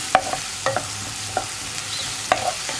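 Onion sautéed in a pan for a tender jackfruit stir-fry, with a spatula scraping and stirring in irregular strokes over a soft, steady sizzle; no one talks.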